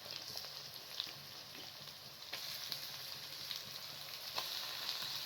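Mutton sizzling and frying in a handi with onions and garam masala over a medium flame, a steady soft crackle with occasional sharper pops, fairly quiet and without talk.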